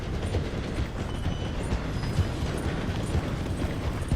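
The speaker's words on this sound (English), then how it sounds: "The train is slowing down to go through the station." Train slowing through a station in the video game Red Dead Redemption 2: a dense, steady rumble of rolling wheels and rattling cars with faint clanks, continuous and fairly loud.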